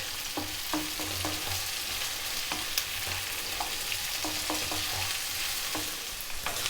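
Hard vegetables and green beans stir-frying in a pan, with a steady sizzle and repeated scraping stirs of the spatula scattered throughout, close and continuous.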